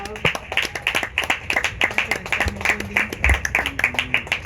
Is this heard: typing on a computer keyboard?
no